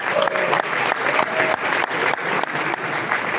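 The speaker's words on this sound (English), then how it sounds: "Could you give him a round of applause?" A launch-event audience in London gives a round of applause, steady dense clapping filling the room for a few seconds.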